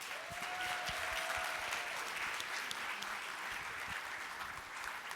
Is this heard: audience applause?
yes